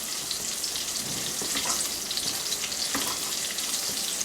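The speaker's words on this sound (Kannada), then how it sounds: "ನೋಡಿ ಶುಂಠಿ ಅದನ್ನು ಹಾಕ್ಕೊಂಡು ಇದೇ ಥರ ಬಾಡಿಸ್ಕೊಳ್ಳೋಣ." Ginger sautés in a hot pan, a steady, dense sizzle close up with a few faint scraping stirs mixed in, continuous throughout.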